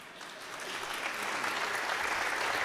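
Audience applauding in a Venezuelan assembly during a comedy show, a dense steady wash of clapping that swells slightly and holds, moderately distant, with no talking over it.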